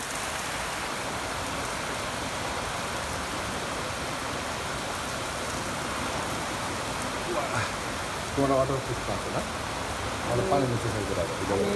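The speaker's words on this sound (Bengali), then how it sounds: "মুসলধারায় বৃষ্টি বহুদিন পরে এই বৃষ্টি গতকালকেও হয়েছিল দেখেন কি অসাধারণ বৃষ্টি" Heavy monsoon downpour drumming steadily and loudly, a dense continuous hiss of rain on surfaces throughout, with brief faint voices near the end.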